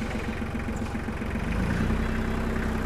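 An Iseki TL2500 tractor, a 25-horsepower two-axle machine with a dozer blade, runs its engine with a steady low chugging throb that rises slightly in intensity, close and alone without any talk.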